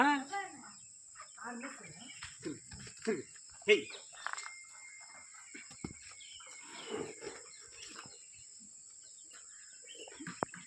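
Farm cattle before milking, with low moos and animal calls mixed among voices talking nearby, a steady high insect-like whine running throughout.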